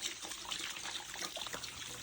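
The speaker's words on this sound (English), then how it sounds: "Once your hands are all soapy, stick them back under the water, wash all that soap off." A kitchen tap runs while soapy hands are rinsed under the stream. The water gives a close, steady splashing and trickling with small irregular fluctuations as the hands move, and no one speaks.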